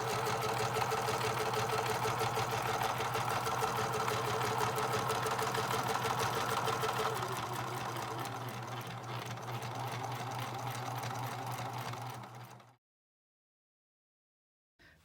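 A home sewing machine stitches the folded 9-inch sides of a fabric face mask with a steady, close, continuous whirring hum and no talk, stopping abruptly near the end.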